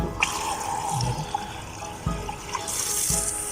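Water from a tap running into a balloon being filled for freezing into an ice balloon, a steady close gurgling flow with a few soft bumps and a brighter hissy rush near the end, no talking.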